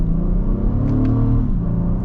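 An Acura MDX SUV accelerates, its engine a loud, close rumble that rises in pitch and then settles, heard from inside the cabin with no talk.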